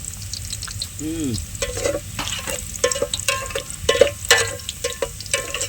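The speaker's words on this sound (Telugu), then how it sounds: "ఉల్లిపాయలు బాగా వేగిపోవాలనా" Onions frying in a pan for a Telugu-style fish curry, a steady sizzle broken by repeated scraping stirs, with a brief rising tonal squeak near the start.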